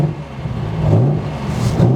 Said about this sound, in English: One last blast of that exhaust.